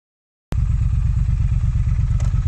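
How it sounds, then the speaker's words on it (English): Motorcycle fitted with a TEC X Pipe exhaust starts abruptly and settles into a loud, close, deep throaty idle with a raw, raspy pulsing rumble that holds steady to the end. "it's raw, it's raspy, it's a deep throaty rumble that really sort of like hits you."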